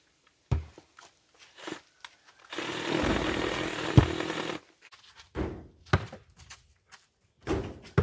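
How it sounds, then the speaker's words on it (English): A power drill whirs steadily for about two seconds removing a screw from a shelf, between scattered knocks and clunks of handling, close by. "I'm going to go ahead and get the drill to take it off that shelf"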